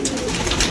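Pigeons coo in a short, steady burst of soft, throaty calls, close and clear, with no talking over them.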